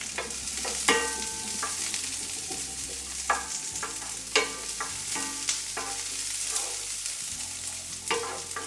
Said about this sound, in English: We're going to brown off the onions